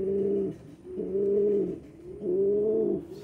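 A male pigeon at a loft coos to a female in three rolling, even calls spaced about a second apart. The calls are close and moderately soft, with no talking over them.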